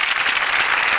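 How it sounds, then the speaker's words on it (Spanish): Studio audience applause on a Spanish radio show broadcast, a dense, steady burst of many hands clapping at close range with no voices over it. "Un fuerte aplauso para recibir a Curro."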